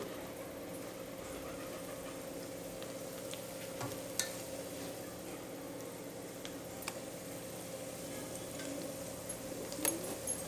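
Vazhakkai bajji, batter-coated plantain fritters, frying in hot oil: a faint, steady sizzling hiss with occasional small pops, heard alone.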